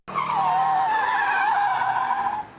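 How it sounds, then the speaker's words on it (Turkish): A car drifting at night in a residential street, tires squealing in one loud, sustained skid that holds steady for over two seconds before cutting off, with faint engine noise underneath. "bir aracın drift yaptığını ve drift sonucu park halindeki araçlara çarptığını tespit etti"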